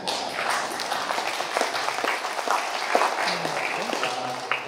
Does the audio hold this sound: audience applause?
yes